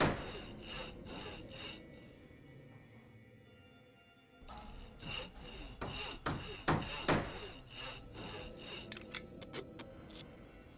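A workbench being crafted with a hammer and saw in the Fallout video game, heard as a run of scraping, sawing and knocking sounds that grow busier and more percussive over about eleven seconds, close and fairly loud with no talking.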